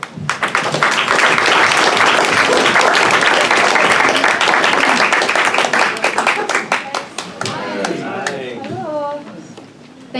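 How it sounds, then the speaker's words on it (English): An audience at a candidate forum on local poverty solutions gives a round of applause, dense close clapping that thins into scattered claps before a speaker starts talking. "round of applause is okay."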